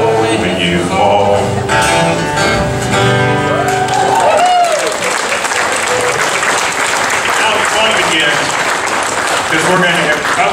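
A loud, sustained wave of audience applause for the band fills the room and blends with crowd noise after the music fades out.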